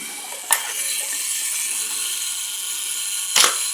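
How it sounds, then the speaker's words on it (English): Shutter of a Zenit EM film camera, Moscow Olympics model, firing, two sharp mechanical clicks about three seconds apart, crisp and close over a faint hiss. "you can see the shutter going across"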